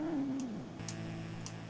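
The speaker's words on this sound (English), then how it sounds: "It's the undead cat." An undead cat in the video game Dead of the Brain lets out one brief, wavering, baby-like yowl that slides down in pitch, loud and alone, followed by faint ticking.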